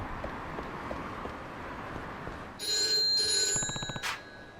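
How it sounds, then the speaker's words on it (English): A telephone rings in the video game Yakuza 3, starting partway through as bright, steady electronic bell tones over a low ambient street background, loud and close. "Another ringing phone."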